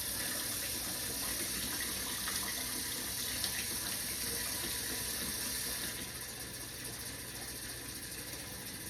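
Tap water runs steadily into a bowl of rice being rinsed while cooking dinner, a continuous broadband splashing hiss that drops slightly in level partway through.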